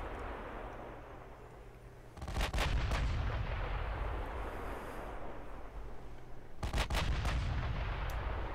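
Heavy battleship main guns from a ship-combat strategy game fire in two loud rolling salvos, each a cluster of sharp booms with a long rumbling tail over steady low background noise.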